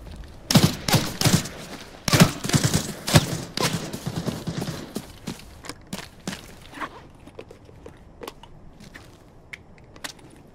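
Gunfire in the Arena Breakout video game: a rapid volley of loud, close shots in the first few seconds, then scattered fainter single cracks spaced out over the remaining stretch.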